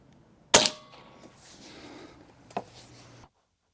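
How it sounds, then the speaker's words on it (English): A new Crosman pellet rifle fires one sharp, loud crack into a target, followed about two seconds later by a second, softer impact snap before quiet returns. "We are reset, firing the new Crosman into the bottom."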